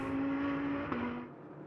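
A Lamborghini Huracan GT3 race car crosses the line during a GT World Challenge America qualifying session at Sonoma, its steady high engine tone holding loud and close before dropping away as it passes, with no voices.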